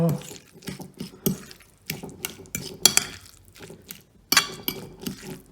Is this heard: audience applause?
no